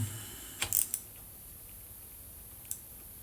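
Ratchet wrench tightening cylinder head bolts on a Harley Twin Cam 103 engine: a few sharp metallic clicks in a short cluster, then a single click later, close by against a quiet background.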